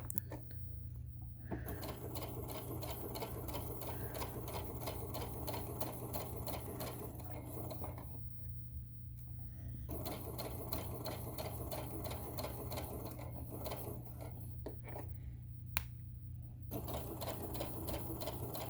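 A sewing machine stitches a tote bag in quick, even runs of needle clatter, broken by two short pauses, heard close up with no talking.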